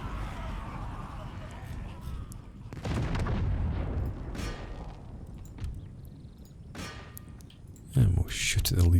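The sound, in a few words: artillery firing in Empire: Total War video game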